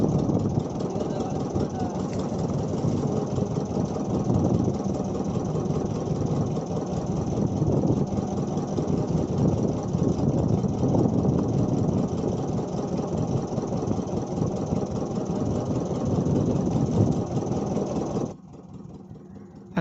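A high-speed boat out at sea on the first day after Cyclone Nivar: a continuous, steady engine drone that holds for most of the stretch, then cuts off abruptly near the end, with faint voices underneath.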